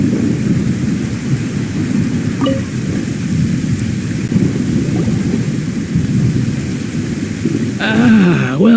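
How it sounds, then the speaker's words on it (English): Steady rain and rolling thunder from the video game Genshin Impact, a loud continuous downpour rumbling throughout, with a brief voice rising near the end. "Did you know that the sound of thunder is the prelude to new life?"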